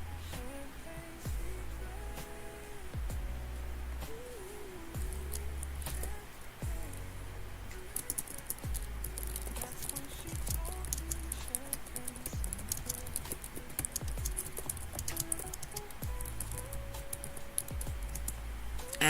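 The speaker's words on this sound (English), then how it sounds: "I should have had the mic tilted down to the keyboard while I was typing" Typing on a computer keyboard, a steady patter of soft key clicks continuing throughout, fairly faint and distant, with background music underneath.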